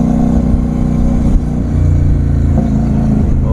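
A CFMoto 800MT touring motorcycle engine runs loud and close, holding a steady, dense rumble with slight swells in revs and no voices over it.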